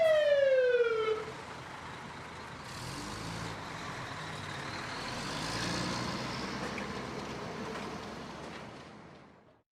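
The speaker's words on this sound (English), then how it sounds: "Their sirens flash and wail to clear the road ahead." A fire truck siren wails briefly, one loud descending sweep at the very start, then gives way to a steady rumble of road traffic and passing vehicles for the remaining seconds.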